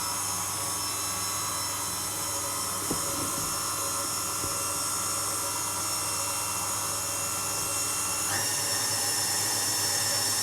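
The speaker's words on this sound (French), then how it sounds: "On laisse mélanger tout doucement." An electric mixer runs steadily on a low setting through financier batter, a continuous motor whir with a brief bump and a pitch change near the end, with no one talking.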